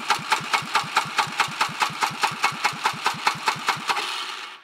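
A 2007 Polaris 500 EFI X2 engine cranks over on the starter during a compression test, about twenty even, rhythmic chugs in quick succession before the cranking winds down at the end, close and clear.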